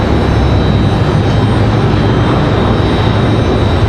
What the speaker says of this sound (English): The Delta E175 getting out of here.